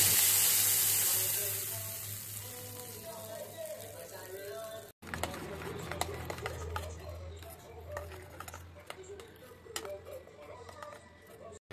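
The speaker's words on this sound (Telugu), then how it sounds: "ఇక్కడ చట్నీలోకి పోపు ప్రిపేర్ చేస్తున్నా" Spices tempering in hot oil for chutney, a bright hiss that flares loudly at the start and then settles into a steady, softer sizzle with small crackles.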